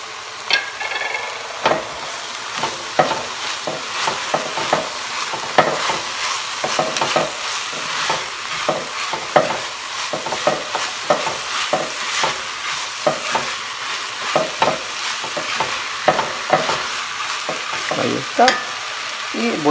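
Onion sautéing in a pan for an eggplant pasta sauce, a continuous sizzle broken by frequent rhythmic spoon scrapes and taps throughout.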